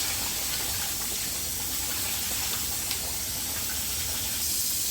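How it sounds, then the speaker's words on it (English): Tap water runs steadily into a bowl as rice is washed by hand without a strainer, a continuous hissing gush up close with faint splashing throughout. "every time you wash the rice, you'll see the water getting clearer"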